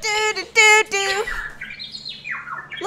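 A bird-like chirping notification tone from the Twitter app sounds on a phone as a few bright, rapid chirps and warbling sweeps, fairly close and clear, with no talking over it.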